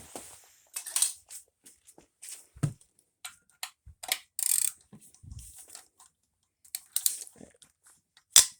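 A hand wrench ratchets in short, irregular clicking bursts with pauses between them while a broken stud is worked loose, close and fairly crisp, no talking.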